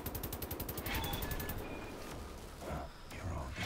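Enemy gunfire in the video game Wolfenstein: The New Order opens with a rapid rhythmic burst of automatic shots, followed by scattered fainter shots and game sounds under occasional talk.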